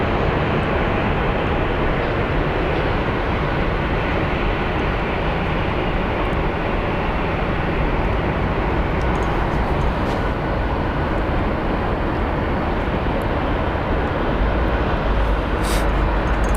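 An airliner taxiing at Phoenix Sky Harbor airport gives a steady, loud broadband engine roar that holds constant throughout, with no talking.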